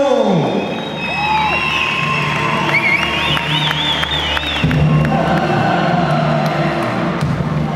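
Arena crowd at a Superior FC 13 fight night cheering and applauding a fighter's introduction, a steady loud roar with scattered whoops and whistles throughout.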